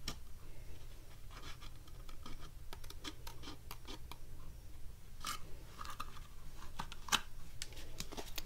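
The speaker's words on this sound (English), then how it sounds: "all you do, again, you just take your scissors" Scissors trim the edge of a cupcake box in a series of quiet, close snips and light paper scratches spaced irregularly, with one sharper cut near the end.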